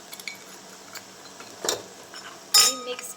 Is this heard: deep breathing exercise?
no